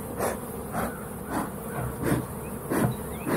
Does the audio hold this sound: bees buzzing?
yes